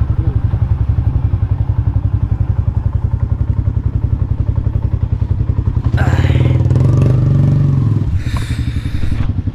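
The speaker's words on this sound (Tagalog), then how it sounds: "Ito pala mga kabungot yung motor ni Kabansot." A motorcycle engine runs steadily at a close, even idle, growing louder and rougher for a couple of seconds with some clattering before settling back to its steady beat.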